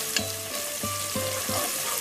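Onion frying in soybean oil for khichuri, a soft sizzle with a few spaced metallic stirring clinks over a quiet hiss, close but faint.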